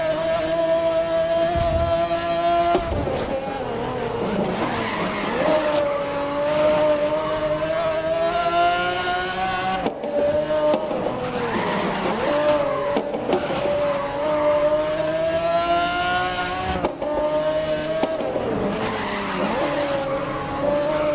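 Race cars in the game Grid scream past at high revs while tires squeal and skid through corners. The engine tone stays loud and steady throughout, with brief breaks between passes and no voices.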